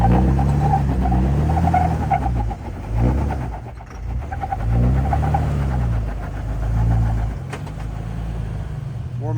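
A Jeep engine revs in repeated surges while rock crawling, a loud, close, low-pitched rumble that rises and falls as the tires are warmed up.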